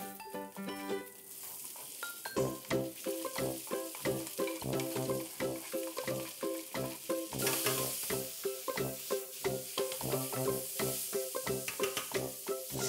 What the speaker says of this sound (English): and saute the beef.